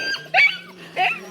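A dog on the Narmada parikrama route gives two short, sharp barks or yips close by, separated by a brief pause over a faint steady hum.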